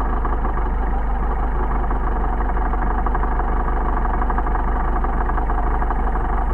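An engine running on Solex 44PHH carburetors idles during tuning with a constant, dense rumble and a fine rapid pulse. The sound is loud and unbroken throughout, with no voices.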